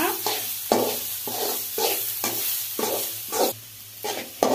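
Chilli powder, salt and turmeric are stirred and fried in a pan for homemade fried rice: a low sizzle runs beneath about nine loud, evenly spaced scraping strokes of a spatula, close up.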